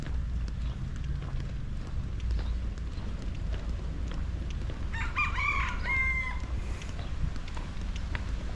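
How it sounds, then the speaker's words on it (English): Rooster crowing outdoors at a farmers market near a Honolulu waterfront park: one drawn-out crow rises midway through, moderately distant, over steady wind and low crowd rumble, with no talk. "That rooster's telling you to subscribe."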